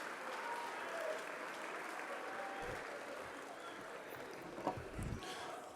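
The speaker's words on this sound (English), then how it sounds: "I want y'all to give a round of applause to your beautiful families and parents, student athletes." An audience at a university athletics stole ceremony applauds with sustained, moderately distant clapping, with a few louder thumps near the end.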